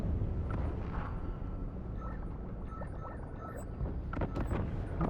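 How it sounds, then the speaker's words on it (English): Bombs explode in Call of Duty: Black Ops III, making a deep, rolling rumble of blasts with scattered sharper cracks and debris. The sound is continuous and fairly loud. "Yo, somebody's dropping these bombs."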